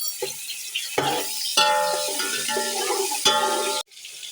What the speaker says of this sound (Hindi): प्याज गोल्डन फ्राई हो गया है, अब इसमें शामिल कर देना है ये लहसुन, 1 टेबल स्पून पेस्ट।